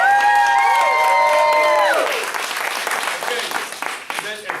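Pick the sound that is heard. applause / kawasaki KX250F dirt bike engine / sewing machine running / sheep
applause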